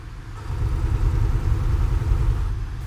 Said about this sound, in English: It also sounds like I'm in way too high revs